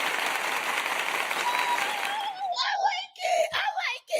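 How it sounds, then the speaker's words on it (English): A canned applause sound effect from a livestream studio tool plays as a loud, dense burst of clapping and cheering that cuts off abruptly midway, after which a voice starts talking. "So let me give a loud round of applause for my Naughty Crew"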